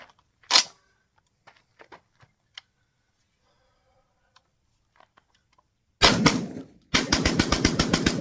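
Rapid burst of shots from a Tokarev TT12 semi-automatic shotgun firing Winchester 1 ounce slugs at a range, a loud blast followed by a quick string of evenly spaced reports after scattered handling clicks.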